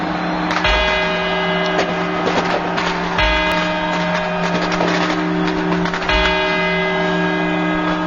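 Clock bells chiming quarters, each ringing strike struck about every three seconds with long resonant tones overlapping, over a low steady background hum.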